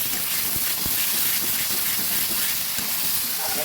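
Snake gourd paste hitting hot mustard oil with fried onions in a pan, giving a loud, steady sizzling hiss with a few soft clicks and pops, close by and continuous.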